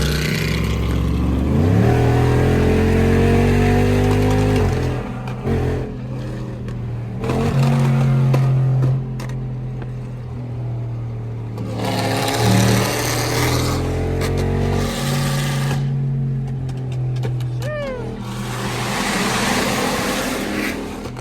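Tuned Dodge Hellcat SRT engines burbling and revving on a highway, loud and close, with repeated throttle surges and deep rumbling passes over a steady low drone, no talking.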